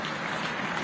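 A seated audience of councillors and local government officials claps steadily for a minister inside a conference hall, the dense applause filling the room without a break and with no speech over it.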